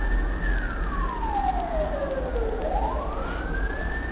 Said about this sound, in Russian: Ну, вон, кстати, уже и скорая поехала.